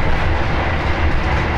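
The Argo Bromo Anggrek train running on the Jakarta–Surabaya line makes a loud, steady rumble of wheels on rails with a continuous rolling roar, close and unbroken.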